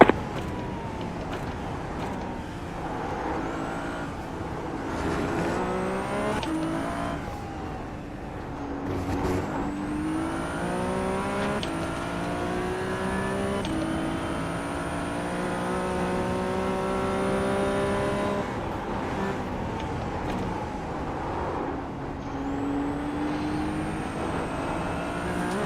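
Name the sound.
Ferrari race car engine and tires, iRacing video game at Oulton Park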